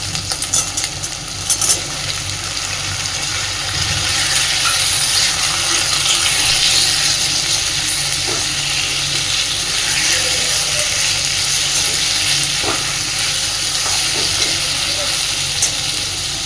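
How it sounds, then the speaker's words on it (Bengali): Long-cut potato slices sizzle in hot oil in a pan of prawn curry, a steady hissing fry with occasional clinks and stirring, while a voice speaks over it. "একই সাথে আমি দিয়ে দিচ্ছি খানিকটা লম্বা লম্বা করে কেটে রাখা আলু।"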